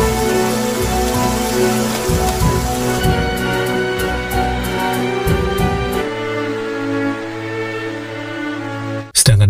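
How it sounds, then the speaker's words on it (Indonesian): Heavy pouring rain at night outside a villa, a dense continuous wash of drops mixed with film music that carries on beneath, ending in an abrupt loud thud. "guyuran hujan"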